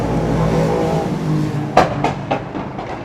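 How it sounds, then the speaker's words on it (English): A crowd of motorbikes rolling past on the road, their exhausts popping in a quick burst of sharp cracks over a steady rumble of traffic. "loads of motorbikes just went past and they're all popping"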